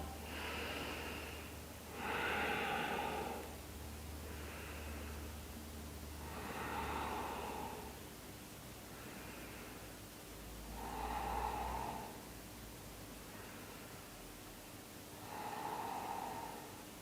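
Slow, deep yoga breaths are drawn in and let out through the nose, about five full cycles at a calm, even pace, close to the microphone over a soft hiss, with no talking.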